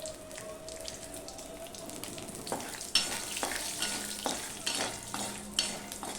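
Panch phoron spices and a torn bay leaf fry in hot oil for a Bengali vegetarian taro dish. A soft sizzle runs under sharp spatter pops and scrapes that grow livelier in the second half, with no speech.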